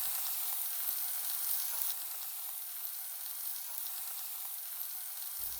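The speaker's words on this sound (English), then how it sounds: "we'll brown it over medium heat" Ground beef browns in a pan over medium heat, giving off a steady, even sizzle and crackle with no voices.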